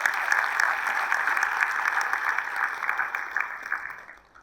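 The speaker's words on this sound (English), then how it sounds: "So I think that they deserve the biggest round of applause." Sustained audience applause for students at a school event, a steady dense wash of clapping that holds evenly, then thins and fades out near the end.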